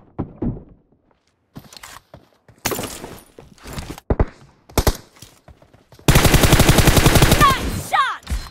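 Gunfire in a team deathmatch video game: scattered single shots and short bursts, then a loud, sustained rapid machine-gun burst near the end, close and sharp against near silence.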